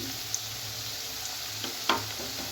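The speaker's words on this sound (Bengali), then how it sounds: "এবার আমি এই আলুগুলোকে ভেজে নেব" Potato pieces frying in oil in a pan, with a steady soft sizzle and a few sharper spatters and stirring clicks, no voices.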